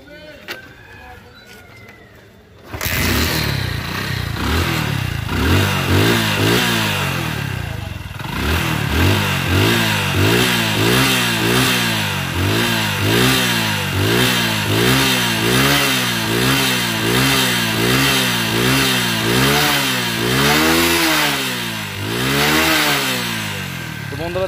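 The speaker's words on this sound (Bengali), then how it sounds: "গাড়ি স্টার্ট অবস্থায় রয়েছে, দেখুন সাউন্ড।" A Hero Splendor motorcycle engine starts and runs near the mic, then revs again and again in steady rising and falling surges over about twenty seconds.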